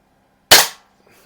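A single sharp crack from a Diana-made Winchester 425 air rifle, an antique spring gun, firing once: close, loud and abrupt, decaying within a fraction of a second, with silence before and a faint rustle after.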